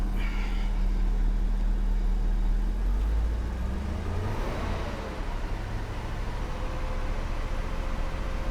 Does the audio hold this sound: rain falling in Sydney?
no